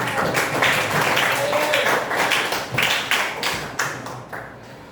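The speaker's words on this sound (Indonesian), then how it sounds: "Silakan beri tepuk tangan" A classroom of vocational high school students claps together, a dense patter of many hands that holds steady for several seconds and then tapers off.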